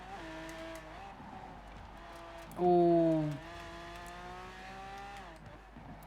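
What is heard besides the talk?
Lamborghini Miura SVJ driving in video game Forza Horizon 4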